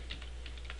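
Several quick, light keystrokes on a computer keyboard while filling in a spreadsheet, soft and close in a quiet room.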